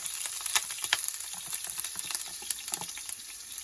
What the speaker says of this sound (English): So we just put in our onion.